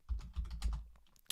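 Fingers tapping quickly on a computer keyboard, a run of close, uneven keystrokes with short pauses and a sharper final click, no voices.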